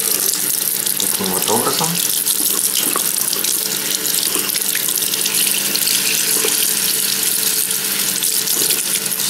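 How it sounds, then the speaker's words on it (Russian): An aquarium plant is rinsed under a running kitchen tap, the water splashing steadily and close into the sink throughout while a person speaks briefly. "И под проточной водой мы сейчас его немножко ополоснем."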